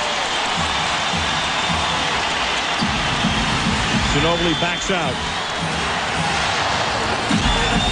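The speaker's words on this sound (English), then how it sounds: "Crowd on its feet." A packed basketball arena crowd roars and cheers on its feet during the 2005 Western Conference Finals Game 4, Suns at Spurs, a steady loud wash of noise under a play-by-play commentator's voice.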